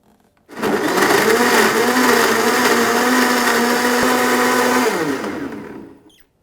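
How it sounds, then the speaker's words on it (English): A blender mixing a protein shake whirs at high speed for several seconds, with a steady, strained motor whine, then spins down and stops. No one speaks. "All in the blender. We're going to mix this up."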